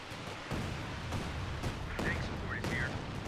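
A Calliope rocket artillery barrage in Company of Heroes 2 sounds as a series of distant, moderately quiet thuds and bursts spaced about every half second, with faint whistling streaks between impacts.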